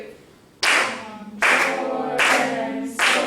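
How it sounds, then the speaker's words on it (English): Hands clap out a rhythm in a music lesson, four loud, crisp claps at a steady spacing under a spoken text recited in time. "speaking the text and clapping the rhythm with our hands"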